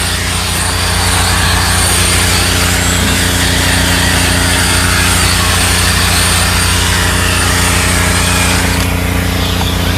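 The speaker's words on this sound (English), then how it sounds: "so what I do is I will drill brush" A drill-powered brush scrubs the carpet inside a farm truck, giving a steady, loud motor whir with a humming drone and continuous scrubbing hiss that runs for the whole stretch without talk.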